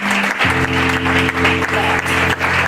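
A church congregation claps in rhythm to acclaim God, a dense, steady patter of many hands over a sustained keyboard chord.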